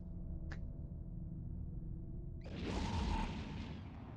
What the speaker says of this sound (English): nice hit from the the anti-ship gun